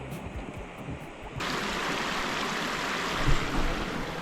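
Water rushing steadily over small waterfalls along the Jacinto forest trail in Calbayog City, Samar, a broad continuous splashing roar that swells up loudly after a quieter opening, with no voices.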